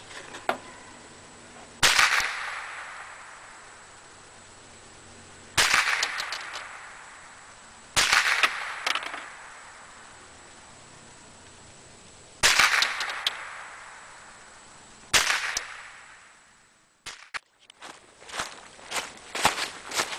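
Sharp .22 Long Rifle shots ring out at target practice, five spaced reports each trailing a short echo, then a quicker cluster of lighter pops at the end, with no talking in between.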